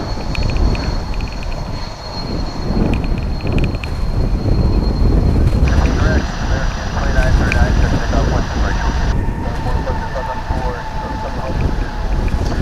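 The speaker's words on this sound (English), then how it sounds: "Coming in from Salt Lake City. It's an A220-100." A Delta Airbus A220-100 arriving at DFW Airport from Salt Lake City. A loud, steady jet roar with wind buffeting and a high-pitched whine lasts throughout the clip.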